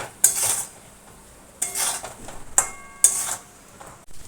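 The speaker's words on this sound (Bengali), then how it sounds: "মশলাটা খুব সুন্দর করে কষে নেব আলুর সাথে।" A spoon scrapes and clanks against a pan while spices are stirred with potatoes. Four separate bursts of metallic scraping are separated by quiet gaps, and the pan gives a faint sizzle.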